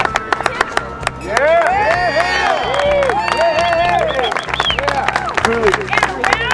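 A crowd of trail work volunteers in McLaren Park claps steadily for the kitchen crew, with cheering and loud overlapping voices and laughter riding over the applause.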